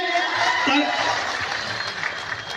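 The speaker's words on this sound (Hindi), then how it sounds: "जोरदार तालियां विधायक महोदय के लिए।" Crowd applause at a tribal cultural gathering in honour of a legislator, a dense wash of clapping heard under a voice speaking over it, moderately loud.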